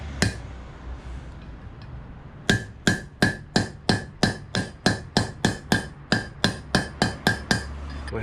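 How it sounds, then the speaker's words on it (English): A hammer strikes the old wheel bearing race on the front hub of a Toyota Landcruiser 70 series: one sharp metallic hit, a pause, then a steady run of about sixteen evenly spaced, ringing blows close to the microphone. "this time, I'm okay to use a hammer straight on the old race"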